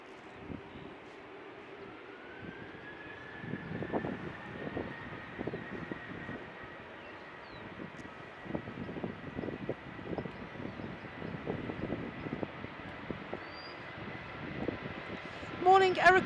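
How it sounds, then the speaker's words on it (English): Ryanair airliner arriving from Dublin at Manchester Airport, a steady distant jet engine drone with a rising whine under continuous talking. "Just arriving Ryanair from Dublin."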